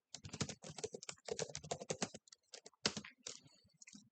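Quick bursts of keystrokes clatter on a computer keyboard close to the microphone as a Linux bash command is entered, with short pauses between groups of taps.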